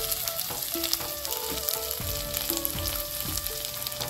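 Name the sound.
frying spice pastes with salt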